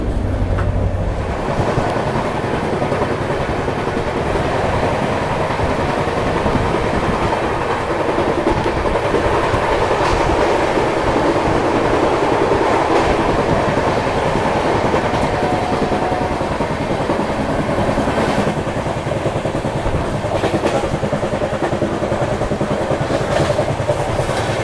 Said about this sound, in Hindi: यहाँ से अब वापस से 130 की रफ्तार पकड़ेगी ट्रेन